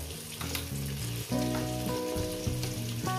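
Potato pieces frying in a pan with oil, a loud constant sizzle and crackle with a few clinks of stirring.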